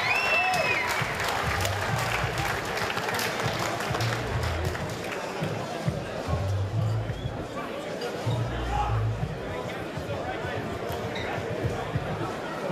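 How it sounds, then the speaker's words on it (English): Crowd applause at a SuperFight boxing event, sustained clapping and cheering from a large audience with chatter and a few low thuds underneath. "This evening, a big round of applause."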